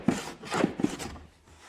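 Hand plane shaving across a wooden strip-planked kayak hull during rough fairing, three or four close, rasping strokes in quick succession that fade into quiet at the end.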